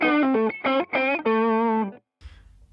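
Electric guitar run through Axe I/O amp modeling in Bold mode, a few distorted chords and a held ringing chord, loud and close, cut off abruptly into a brief quiet pause and soft rumble.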